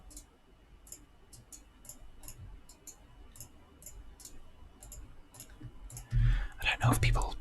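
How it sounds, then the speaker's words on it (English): Mouse clicks from a computer game of Minecraft, a string of soft, evenly spaced ticks repeating every half second or so, close and quiet, followed near the end by a louder burst of handling noise. "I don't know if people particularly like all the sound of the clicking mouse"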